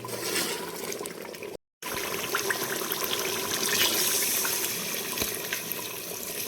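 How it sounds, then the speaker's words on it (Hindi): Water poured steadily into a pot of chicken korma being cooked, a loud continuous splashing and trickling stream with a brief break early on, with no talk over it. "अब हम इसमें ग्रेवी के हिसाब से पानी छोड़ेंगे"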